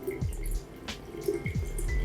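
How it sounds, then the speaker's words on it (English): Water from an ionizer machine poured into a bottle, a low steady liquid trickle with a few faint drip-like splashes throughout, fairly quiet and close, with no talking. "now we are pouring this water in this bottle that you can see"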